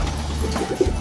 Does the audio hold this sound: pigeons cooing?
yes